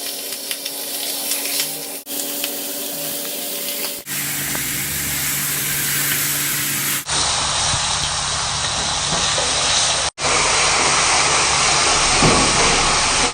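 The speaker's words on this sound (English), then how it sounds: "Once you put your grease in there, you want to hear that sizzle." Carnitas sizzle in a hot greased pan with a loud, continuous hissing spatter heard up close, broken by a few abrupt cuts.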